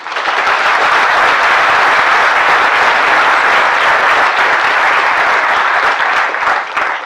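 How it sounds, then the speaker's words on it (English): A large audience at a bird photography awards event applauds a runner-up, producing a loud, dense, unbroken roar of clapping that stays even for about seven seconds before thinning slightly at the end. "I think he deserves a round of applause in his absence"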